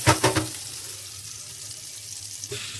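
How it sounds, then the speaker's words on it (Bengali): Potatoes frying in oil with chilli and turmeric powder over a lowered gas flame: a couple of quick stirring clatters, then a soft, steady sizzle close by. "এই গ্যাস কমিয়ে একদম আলুটাকে ভালো করে ফ্রাই করতে হবে"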